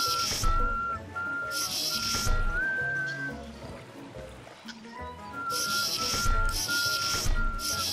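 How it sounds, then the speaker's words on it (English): Someone whistles a slow, sad tune in long sustained notes over game sounds from Trapper's Delight, with bursts of hissy noise and brief pauses between phrases. "I was whistling like the sad tune"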